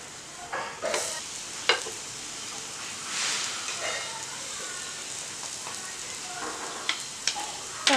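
Soft sizzle of bread bajji frying in a little oil on a non-stick tawa, with a few scraping clicks of a spatula turning the pieces; quiet and close, with faint background noise.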